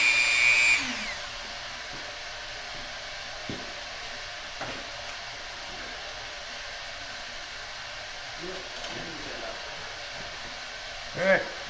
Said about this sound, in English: This Dremel tool itself, it's great.